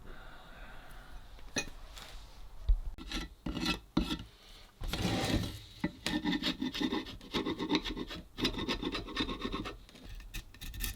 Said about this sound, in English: I think first I'm gonna hit this handle with some 80 grit.